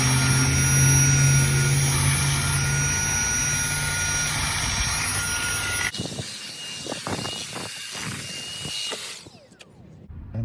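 A Dyson handheld vacuum cleans a car interior with strong suction, a loud steady whine and roar that drops in pitch and texture partway through, then continues rougher until near the end.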